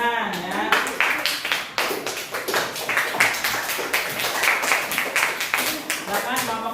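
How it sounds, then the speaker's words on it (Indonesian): Students in a classroom clap together in a lively, fairly close burst of applause, the claps uneven and bunched, with voices mixed in around them. "beri tepuk tangan ya"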